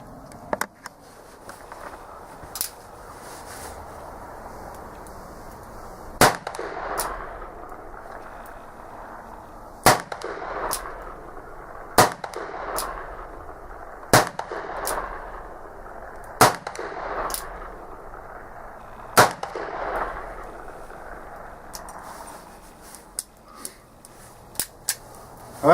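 An Uberti 1860 Army black powder revolver being fired after a repair: seven or eight sharp, loud cracks come a couple of seconds apart, each trailed by a short echo over a steady outdoor hiss.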